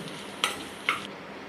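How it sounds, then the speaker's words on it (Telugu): Sliced onions and lengthwise-cut green chillies fry in a pan, a steady sizzle broken by two quick stirring scrapes of a spatula. "నిలువుగా కట్ చేసి పెట్టుకున్న పచ్చిమిర్చి ముక్కల్ని యాడ్ చేసుకొని లైట్గా ఫ్రై చేసుకోవాలి"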